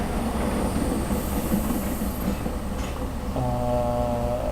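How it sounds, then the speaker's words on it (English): Simulated freight train slowing down in Train Simulator, with a steady rumble and hiss of rolling stock under braking, and a harmonic tonal whine rising near the end. "As I said, this train brakes so fast."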